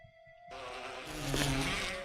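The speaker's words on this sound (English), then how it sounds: "I hear bees." Bees buzz in the video game Resident Evil HD, a dense insect drone that starts abruptly and swells slightly louder toward the end, heard alone without talk.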